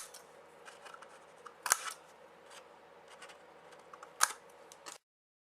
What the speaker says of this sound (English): Everywhere that there's a little triangle, you're just going to snip those out.